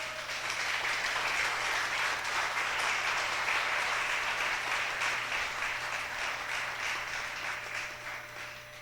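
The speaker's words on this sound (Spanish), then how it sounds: "Bríndele un fuerte aplauso al Señor." A church congregation applauds together in sustained, steady clapping that fills the space for several seconds and tapers slightly at the end, with a faint low hum underneath.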